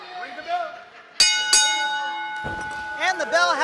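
Two sharp ring-bell strikes open a heavyweight championship pro wrestling match, each leaving a bright lingering ring over a live crowd and ongoing talk.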